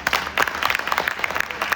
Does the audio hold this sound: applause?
yes